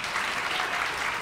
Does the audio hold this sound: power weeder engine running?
no